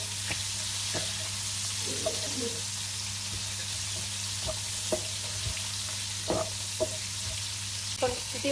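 Broiler chicken frying in a pan, a steady close sizzle with occasional stirring clicks and scrapes over a constant low hum.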